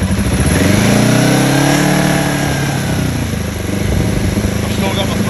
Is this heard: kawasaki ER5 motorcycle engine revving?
yes